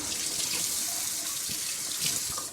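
Tap water runs steadily into a kitchen sink while green onions (scallions) are rinsed, a close, constant hiss and splash with slight shifts as the stream hits the vegetables.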